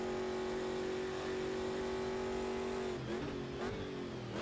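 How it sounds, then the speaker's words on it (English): A race car in a racing video game at Goiania holds a steady engine tone, then the pitch drops and wavers as it brakes hard into the final corner, fairly quiet with no talk. "Heavy braking into the final corner."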